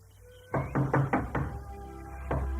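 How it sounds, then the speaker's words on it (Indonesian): Knocking on a door in a radio drama, a close run of four firm wooden knocks in quick succession followed by a lone knock after a short pause, over a low background hum. "Tidak ada yang mendengar ketukan pintu ini."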